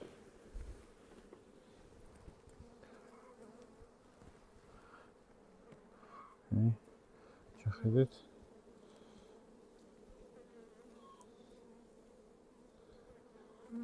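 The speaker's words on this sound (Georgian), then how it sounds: "ფუტკარი არის იდეალურად დამშვიდებულია" Honeybees from a calm colony hum steadily at an open hive. A voice speaks briefly, and a couple of soft knocks occur near the middle.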